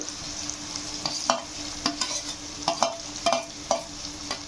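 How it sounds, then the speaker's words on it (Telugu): Capsicum, carrot, tomato and green chillies being stir-fried in hot oil and ghee for fried rice. A soft, steady sizzle runs throughout, broken by a dozen or so sharp spatula scrapes and clacks in an uneven stirring rhythm, with no talking. "అలాగే టమాటాలు పచ్చిమిరపకాయలు కూడా వేసి పచ్చివాసన పోయేంత వరకు వేపేసుకోవాలి"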